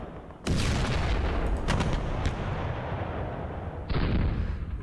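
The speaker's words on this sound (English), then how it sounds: "Let's hit that unit with 105s." Artillery fire from 105mm guns in the Panzer Campaigns Kharkov 43 wargame bursts in as a sudden loud boom that rumbles on, followed by a second blast near the end.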